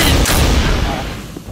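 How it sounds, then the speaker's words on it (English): A grenade blast in the zombie survival shooter No More Room In Hell, a loud close boom with a rumbling tail that fades out over a second or so. "Watch out, grenade! Grenade!"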